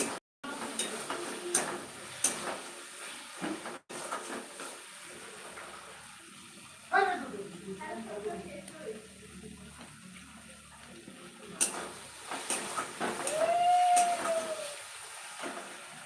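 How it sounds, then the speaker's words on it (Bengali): Water is poured into a pan while bhaila fish cooks, a faint close hissing pour with sizzling and scattered clinks, quiet throughout with a brief louder splash toward the end. "আমি জল দিয়ে দেবো"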